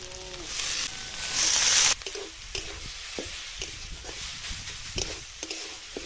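Grated potatoes frying in a pan with ginger, garlic and spices, a loud sizzle as they go in, then scattered stirring scrapes over a steady low frying hiss.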